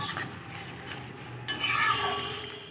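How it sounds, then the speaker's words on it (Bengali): Spatula stirring fried eggs with spice masala in a pan for an egg curry, soft scraping and faint sizzle, growing brighter and louder halfway through, no talk. "এবার ভালোভাবে একটু নেড়ে চেড়ে এগের সাথে মশলাটাও কষিয়ে নেব।"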